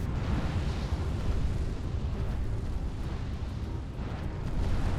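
MAC cannon fire in the space strategy game Sins of the Prophets, heard as a dense, continuous rumbling roar of heavy explosive battle noise, steady and loud for several seconds with no speech.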